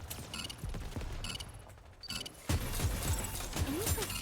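Video game gunfire crackles in short repeated bursts through a busy, dense mix, loud and close with no talking over it.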